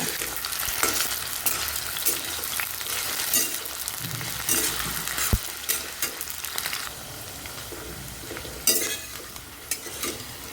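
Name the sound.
potatoes frying in a pan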